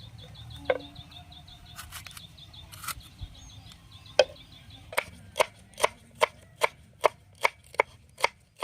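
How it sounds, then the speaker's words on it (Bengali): A knife chops capsicum on a board, a few scattered cuts at first, then a steady run of about a dozen crisp, evenly spaced chops close by, with faint background chirping and no speech. "ক্যাপসিকাম কেটে নেবো।"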